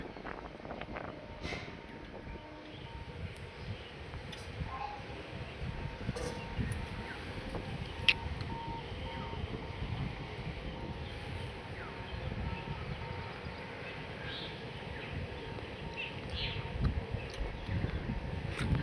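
Wind gusts across a rooftop with a garden plant, making a continuous low, rumbling buffeting with rustling leaves, swelling and easing in waves over a long stretch, close and fairly quiet.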